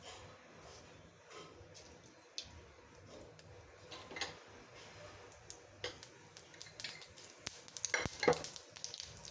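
Mustard seeds dropped into hot oil for a rustic onion-potato curry, sputtering and popping in quick, irregular crackles that grow busier toward the end, over a faint steady sizzle, with no talking.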